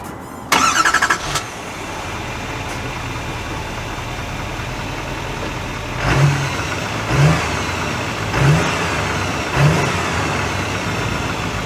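A 2023 GMC Sierra 3500 SLT pickup truck starts off, its engine giving a brief loud burst at the start, then a steady cabin drone with four evenly spaced rising surges as it accelerates through the gears.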